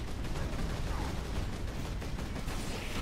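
Sustained dense gunfire and blasts from a Warhammer 40,000: Space Marine video game battle against Chaos enemies, loud and continuous with a broadband roar throughout.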